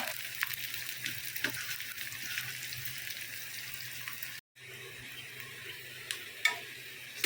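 Onion frying in an iron pan, with a faint, steady sizzle and occasional clicks of stirring, broken by a brief silent gap midway.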